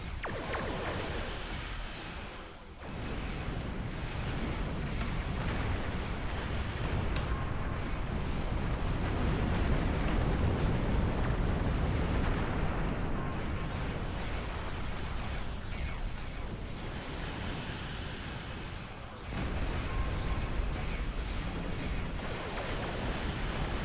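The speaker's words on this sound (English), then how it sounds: "Spiral beams are going through. Torpedoes spread. This torpedoes high yield as well." Beam weapons and torpedo blasts in a space combat video game form a dense, loud, continuous roar of explosions lasting the whole stretch, with a brief dip near the start and another near the end.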